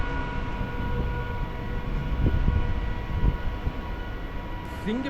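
A MEMU passenger train on the Tambaram to Villupuram line pulls into Singaperumal Koil station, giving a steady low rumble and rattle with a few soft clanks and squeaks heard from onboard.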